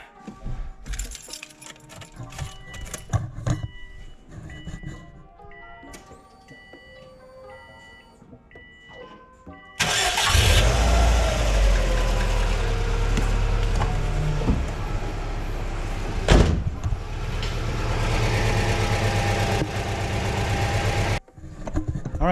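A car with an open catback exhaust has some light clattering and handling noise first, then the engine starts and settles into a loud, steady, rumbling idle that fills the rest of the stretch.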